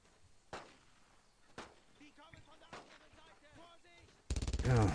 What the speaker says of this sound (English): Oh, there's another machine gun there.